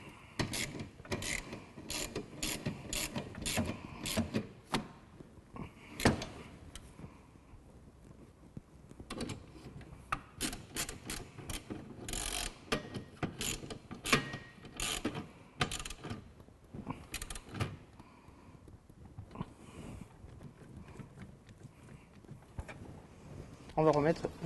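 A ratchet tightens the wiper arm bolts on a Renault Scénic 2 dCi: bursts of close, sharp clicking with short pauses, and some talking around them.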